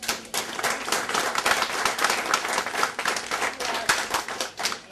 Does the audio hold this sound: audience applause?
yes